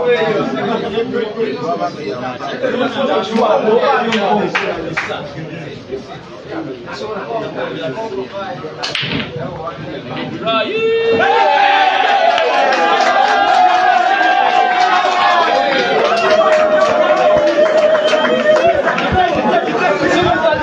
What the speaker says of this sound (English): The crowd is starting to get fired up.